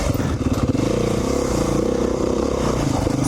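A 2019 Beta 500 RR-S four-stroke dual-sport motorcycle pulls as the throttle is rolled on, a steady, loud engine drone with faint clatter, close to the recorder and continuous throughout, with no talk.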